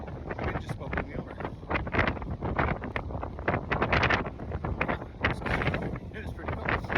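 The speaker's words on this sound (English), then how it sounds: "I decided to come out here and the wind just about blew me over." Strong wind buffets and roars across the microphone aboard a boat, a continuous heavy rumble with gusty peaks, while a voice talks faintly underneath.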